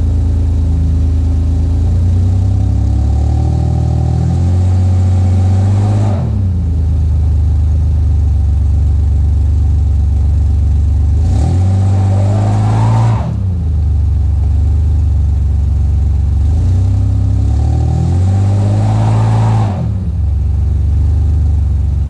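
A Ford Aerostar van stuck in mud revs its engine hard in long repeated bursts, each surge rising and then dropping back, with the loud engine drone continuous and close throughout.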